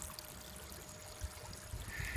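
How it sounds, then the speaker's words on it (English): A tap spraying water into an aquaponics tank in a solar-powered IBC system: a soft, steady splashing trickle with faint low gurgles, continuous and close. "I've also got this another tap which sprays into the water in here"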